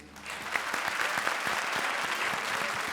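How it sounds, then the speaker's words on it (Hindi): Studio audience on a TV comedy show bursts into loud, sustained applause, dense clapping rising quickly and holding steady with a faint voice underneath. "एक बार फिर जोरदार तालियां फॉर जूही एंड वीआईपी"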